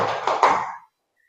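Participants clap together in a rhythmic clapping game at a positive-culture workshop. A short flurry of group claps with two sharper accented strikes near the middle, close and fairly loud, then dead quiet.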